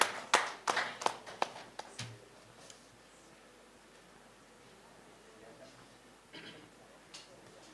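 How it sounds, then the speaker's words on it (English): At an agricultural knowledge-management conference, a small audience gives brief, scattered applause: a short flurry of distinct handclaps that quickly thins to a few isolated claps over quiet room noise. "A big round of applause to each and every participant who was presented."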